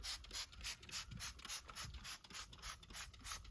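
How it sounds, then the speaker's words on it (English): Simple Green cleaner pumped from a trigger spray bottle onto a Honda Beat during a cleanup, a quick series of about a dozen close, hissing spritzes in an uneven rhythm with no talk. "So just gonna kind of spray this simple green liberally."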